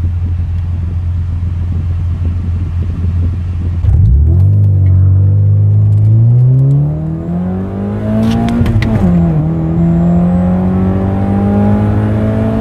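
A fourth-generation Honda Prelude engine after a knock sensor replacement, idling steadily and then cranking to a rising rev before settling back to a loud, close, even idle with no talk.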